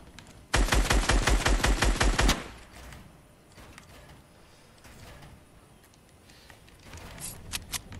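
Rapid automatic gunfire in the video game Fortnite, a loud, dense burst of shots lasting about two seconds, followed by quieter game ambience and a few faint clicks near the end.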